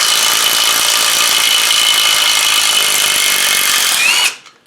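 A power tool undoes bolts on a stripped-down TD5 LT230 transfer gearbox, a steady loud whirring drone running nearly five seconds before cutting off abruptly into silence.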